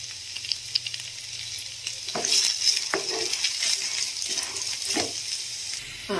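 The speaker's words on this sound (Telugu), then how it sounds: "కట్ చేసుకున్న ఒక ఆనియన్, అలానే ఒక 2 పచ్చిమిర్చి వేసుకొని మంచిగా ఫ్రై చేసుకోవాలి" Chopped onion and two green chillies fry loudly in a pan for a home-style curry, a steady close sizzle with intermittent scraping and stirring clatter of a spoon.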